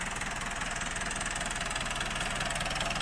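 A tractor engine runs continuously nearby, a steady, rough, rhythmic chugging rumble with a fast knocking pulse and dense vibration throughout, loud and alone without talk.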